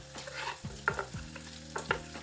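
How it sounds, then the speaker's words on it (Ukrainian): Diced onion frying with bacon in a pan, a soft sizzle broken by a few spatula scrapes and stirring clicks, close and fairly quiet with no voice. "І ту цибульку ми кидаємо до бекону. І нехай все разом гарно обсмажується."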